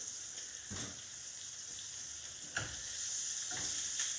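A steak sears in a non-stick pan with a soft, steady sizzle and a few faint clicks and scrapes, heard quietly with no talking.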